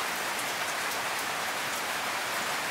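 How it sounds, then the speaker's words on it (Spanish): Heavy rain suddenly pouring down, a dense, even hiss of drops hitting surfaces nearby, loud and unbroken with no voices. "Justo que estoy por salir, se larga la lluvia."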